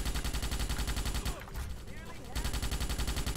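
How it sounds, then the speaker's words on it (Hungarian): Rapid gunfire and grenade-launcher shots from the Starship Troopers (2005) video game fire against swarming enemies, a dense stream of repeating blasts that briefly drops out mid-clip before resuming, with no talk. "Rájuk lövöm itt a gránátot a fegyverből."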